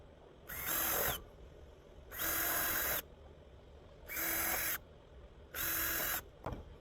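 Four short bursts from a power drill pre-drilling holes in wood, each a whining spin of about a second, with pauses between them and no voices.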